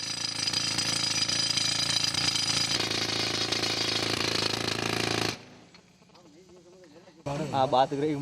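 A rock drill hammers loudly and continuously into stone in a Makrana marble mine in India, a harsh, close clatter that stops abruptly, followed by a quieter lull and then people talking.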